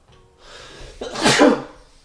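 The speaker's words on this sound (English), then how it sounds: "Sorry, I had to sneeze." A single loud sneeze up close, with a short sharp intake of breath before the burst.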